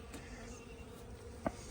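Honeybees, a few nurse bees left on a shaken frame of capped brood, drone in a steady, faint hum with one brief closer buzz passing near the end.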